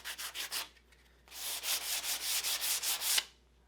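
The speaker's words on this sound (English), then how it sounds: "Just gonna get this edge sanded" A wooden edge is sanded by hand in quick, steady rubbing strokes, a short burst of strokes, a brief pause, then a longer run of rhythmic back-and-forth scratching, close and clear.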